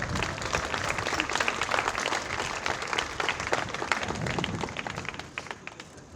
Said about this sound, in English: let's have another round of applause for all of them